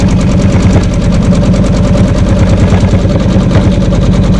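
Embroidery machine stitching backing fabric onto a quilt block, a loud close rapid mechanical needle rhythm that runs steadily throughout.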